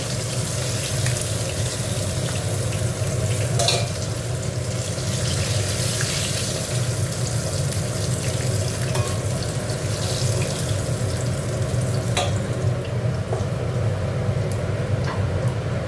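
Tangra fish frying in oil in a pan, a steady even sizzle running unbroken throughout, moderately loud and close, with no talk.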